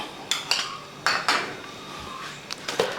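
A spoon clinks sharply against a bowl while sugar and vanilla essence are stirred together for caramel pudding. The scattered metallic taps and scrapes come in small irregular clusters in a quiet kitchen.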